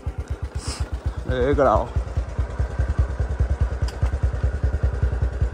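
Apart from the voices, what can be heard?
motorcycle engine on an enduro ride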